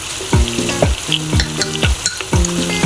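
Ground spices (chilli, turmeric, coriander, garam masala) sizzle in a pan for paneer butter masala while a spoon stirs and scrapes in rhythmic strokes, close and fairly loud with no talking.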